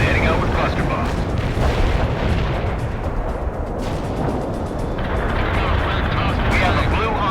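Artillery barrage in the World in Conflict video game, heavy booming explosions rolling together into a loud, continuous roar, with radio-style voices talking over it.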